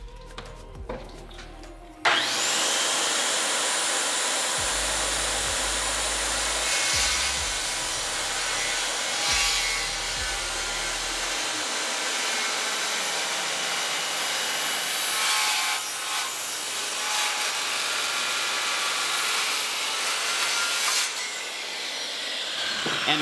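Circular saw (Skil saw) cutting through wood: motor spins up sharply, then a loud continuous whining cut runs steadily for about twenty seconds, with low thumps beneath early on, and tapers off at the end, no talk.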